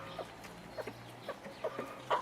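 Hens on a small farm cluck in short, scattered bursts, several soft calls spread over a couple of seconds against a faint low background hum.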